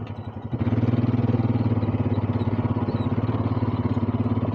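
A Honda Big Red three-wheeler rides at night, its engine kicking in after a quiet start and settling into a loud, close, steady throbbing drone with a rapid pulsing beat, no talk.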